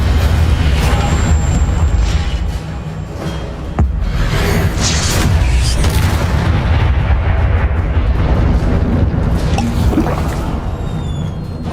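An Incendio fire spell cast in a Wizarding World video game, a loud roaring whoosh of flame with booming, crackling bursts that rumble on continuously throughout.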